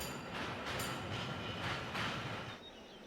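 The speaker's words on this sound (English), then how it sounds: "Climbing smoothly upwards to the island's iconic summit, this was the very first cable railway in Asia." A cable railway car climbs steadily along its track up a peak, with a continuous mechanical hum and faint rhythmic clatter, fading slightly toward the end.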